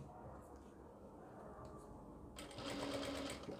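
A sewing machine stitching a ladies' scarf mask starts up near the end after a quiet stretch, whirring steadily and close.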